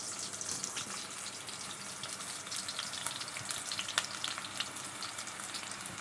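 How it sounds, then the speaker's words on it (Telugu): Beetroot frying in a pan gives a steady, close hiss of sizzling oil throughout, with a few faint clinks and sharper pops scattered across it. "బీట్రూట్ ఫ్రై చేస్తా ఎలా చేస్తానో చూస్తూ ఉండండి"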